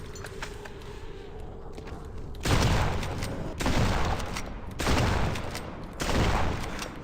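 Video game gunfire with bullets striking a character: four loud, broadband bursts of rapid shots arrive about a second apart, each tailing off, after a quieter stretch of faint background game noise.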